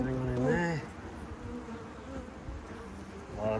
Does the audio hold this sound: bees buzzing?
yes